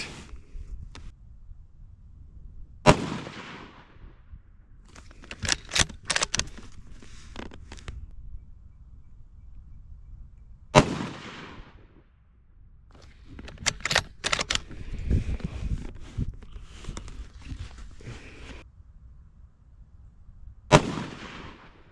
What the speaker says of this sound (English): All right, shooting 3 Hornady Superformance varmint.